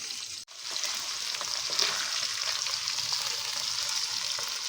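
Okra pieces fry in a pan, a continuous, even sizzle held close at a moderate level from start to finish, with one brief dropout near the beginning.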